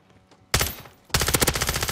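Two bursts of rapid automatic gunfire in Call of Duty, a short volley followed by a pause and then a longer, loud rattling stream of shots, close and dominant with no talk over it.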